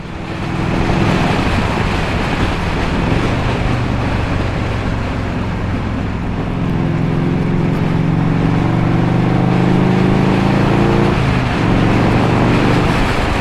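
A 1984 Harley-Davidson Tour Glide rides through a tunnel on a parkway, its engine a loud, continuous low rumble mixed with heavy wind and road roar echoing off the walls, with no speech.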